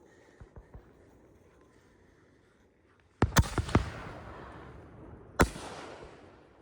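Canister shell fireworks from a consumer kit: a few faint pops at first, then after a quiet gap a loud launch thump and sharp cracking bursts with crackling trails, followed by another strong boom.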